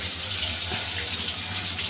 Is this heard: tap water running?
yes